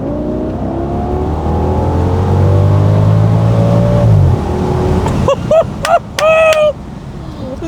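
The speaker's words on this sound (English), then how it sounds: "that's the sound of a Lamborghini-derived V10 engine in a family estate car" An Audi estate car's Lamborghini-derived V10 engine climbs in pitch through a long, loud rev, then drops into a series of sharp throttle blips and bursts, heard close from inside with the windows partly down.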